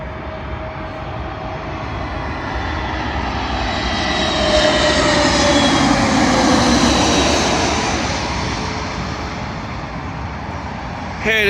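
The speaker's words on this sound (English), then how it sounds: "Arriving in now is a British Airways Airbus A320neo, working a service from Istanbul to London Heathrow" A British Airways Airbus A320neo arriving from Istanbul lands on runway 27L at London Heathrow, a sustained jet engine roar that builds to a peak mid-pass and gradually fades, close and fairly loud.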